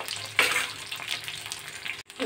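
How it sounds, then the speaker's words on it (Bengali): Prawn pakoras sizzle in a pan as part of a Chinese-style prawn kebab dish. A soft, hissing fry is broken by a brief scrape of stirring early on, then the sound cuts out abruptly near the end. "এটা একটুখানি ভাজা ভাজা করে নেবো"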